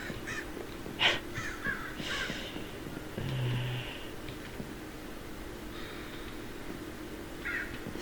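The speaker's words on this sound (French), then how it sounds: "Je sais que ça, c'était des corbeaux." Crows caw in the survival horror game From The Fog, a few short harsh calls spread over several seconds, fairly faint against a steady low ambient background.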